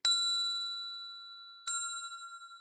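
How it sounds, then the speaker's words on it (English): A small silver cup struck twice, each hit giving a bright, clear ring that lingers and slowly decays, quiet and close. "And then I have this silver cup that I always keep on my desk here."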